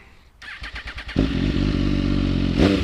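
A motorcycle engine cranks with a few rapid chugs, then fires up and idles with a deep, throbbing rumble, ending in a quick throttle blip.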